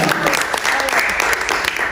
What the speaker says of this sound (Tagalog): Kaya pumalakpak, may mga power pa.